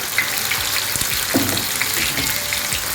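Ground onion, coriander and cumin masala with a little water frying in a pan over a slow flame, stirred steadily: a constant close sizzle and hiss with soft scraping strokes, no talking.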